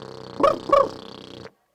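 A person imitates a dingo's bark with the lips, two short, close, throaty woofs in quick succession over a sustained drone that cuts off abruptly.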